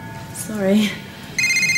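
A telephone rings indoors during a domestic scene, its bright electronic trill starting near the end and sounding close and steady after a short stretch of voice.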